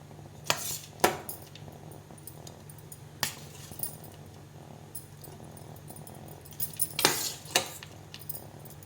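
A utensil scrapes and clinks against a pan while fried chicken is stirred into fried rice, with a few sharp metallic knocks among a low background hum.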